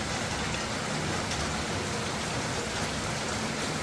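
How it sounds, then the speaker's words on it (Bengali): Heavy rain pours down outside in a constant, loud roar of drops striking surfaces, unbroken from start to finish, with no voices over it. "হারে বৃষ্টি হচ্ছে দেখি"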